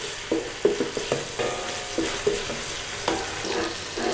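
Chilies frying in a pan with a steady oily hiss, broken by a series of scraping, tapping stirs of a utensil against the pan, close up and with no talking.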